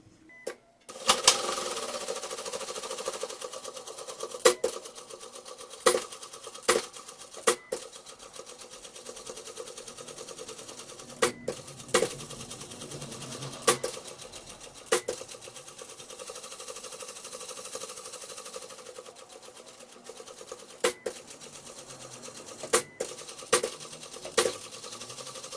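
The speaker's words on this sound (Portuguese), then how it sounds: "Já costurei aqui dentro da borda" A sewing machine stitches along the edge of a bucket-style bag, running in steady continuous bursts broken by brief pauses and sharp clicks, close and fairly loud with no talking.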